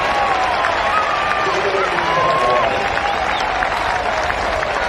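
A Test cricket crowd at a Bangladesh versus New Zealand match breaks into sustained cheering and applause, a dense, loud wash of clapping and shouts, with a commentator's voice running over it.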